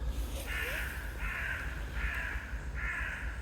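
A crow caws four times in an even rhythm in a wood, moderately distant, over a steady low rumble of background noise.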